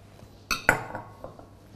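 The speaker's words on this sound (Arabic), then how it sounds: "نخلط هذه المكونات" Ground almonds and icing sugar mixed together in a bowl, with two sharp, close clinks of utensil against the bowl, then fainter light taps in a quiet room.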